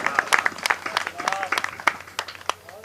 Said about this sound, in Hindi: बहुत बहुत धन्यवाद आपकी घनघोर तालियों के लिए।